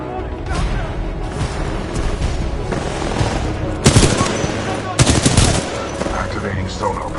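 Supporting fire from a Titan mech in Titanfall 2 rattles as sustained bursts of heavy gunfire, with two louder blasts landing midway through a dense, busy battle mix.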